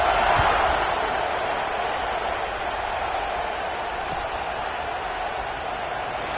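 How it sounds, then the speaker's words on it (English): A football stadium crowd murmurs and buzzes steadily after a score, a broad, continuous wash of distant voices that stays fairly loud throughout with no distinct words standing out. "this crowd is buzzing after that last score"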